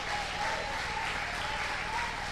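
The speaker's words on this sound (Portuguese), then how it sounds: "Vamos aplaudir o nome do Senhor." A church congregation applauds steadily throughout, a dense, even wash of clapping with no talk over it.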